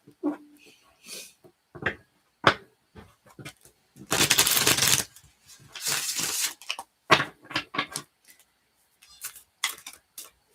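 A deck of cards is shuffled by hand in bursts of rapid riffling and flicking, broken up by soft taps and clicks, with a person talking in between.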